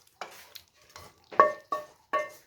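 Turnip sabzi spooned out of a pot into a bowl, heard as a handful of short scraping, clinking bursts spaced about half a second apart, close by, with no talking.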